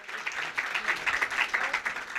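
Applause from an audience welcoming a guest being garlanded at a secondary school prize-giving ceremony, a steady, moderately loud clapping that carries on through the whole stretch with no voices over it.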